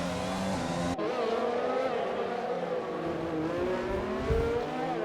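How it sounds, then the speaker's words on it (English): Racing game Formula 1 car locking its tyres at the Singapore circuit: a loud, continuous engine whine with a shifting tyre screech and scrubbing layered over it, close, with no clear talking. "Oh, lock up."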